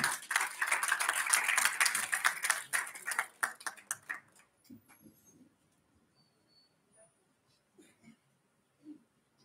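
Claps ring out from the audience at a Hindi Diwas kavi sammelan poetry gathering, a quick run of sharp, distinct hand claps over about four seconds before tapering off into near silence broken by faint small sounds.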